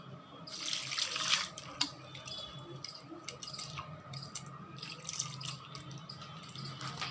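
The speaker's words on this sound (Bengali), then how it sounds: "এখন আমি কিছুটা পানি দিয়ে এগুলোকে লিকুইড বানিয়ে নেব।" Water runs from a tap into mashed potatoes in a kitchen, a soft steady trickle with a few brighter splashes and drips, close and fairly quiet, with no one speaking.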